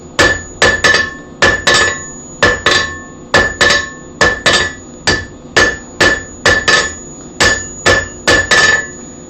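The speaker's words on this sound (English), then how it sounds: "before I could start hammering it" Heavy hammer blows on hot metal while forging a nail header, struck loud and close in quick bursts of two to four ringing hits with short pauses between them.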